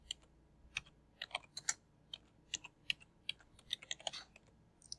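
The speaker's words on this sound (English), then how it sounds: "I'm gonna type it in here." Quick, uneven clicks of keys being typed on a computer keyboard, close by and fairly quiet, with short pauses between bursts.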